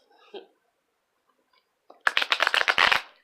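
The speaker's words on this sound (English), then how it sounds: "I'm just going to shuffle." After a brief faint sound and a pause, a close, crisp burst of tarot cards being riffle-shuffled rattles for about a second.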